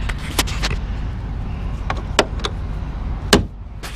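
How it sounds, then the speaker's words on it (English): A truck hood slams shut outdoors with a sharp metallic bang, then a second and third thump follow amid scattered clunks over a low engine idle and street rumble. "Shut the hood."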